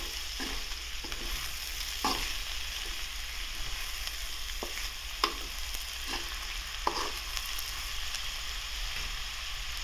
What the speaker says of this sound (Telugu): ఇలాగ ఒకసారి మొత్తం కలుపుతాం